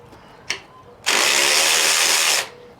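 A Durofix G12 12V cordless 1/4-inch extended ratchet rated at 30 ft-lbs gives a short click, then spins up into a loud, close whirring burst of just over a second before stopping.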